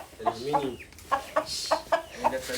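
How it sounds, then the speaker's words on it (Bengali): Hens cluck in a chicken house, a series of short close clucks in an irregular rhythm, fairly faint, with a brief hiss midway. "এই ঘরটাতে মামি অনেক মুরগি পালে"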